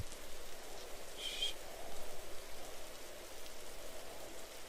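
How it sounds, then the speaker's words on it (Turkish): Steady soft patter of rain falling in a zombie video game, The Last Stand: Aftermath, an even hiss throughout with no voices. "Yağmur taneli bile yavaş geliyor bakın."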